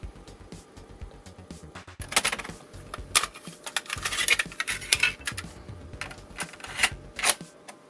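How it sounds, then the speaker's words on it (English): Plastic cassette tape handled and pushed into a tape drive, a string of close, sharp clicks, clatters and rattles that grow busier after the first couple of seconds, with no talking. "we'll get this into a tape drive"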